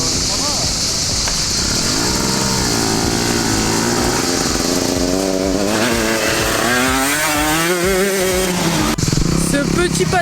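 Motorcycle engine revving and buzzing loudly as it rides past, pitch climbing and dipping through gear changes, with someone talking over the engine noise throughout.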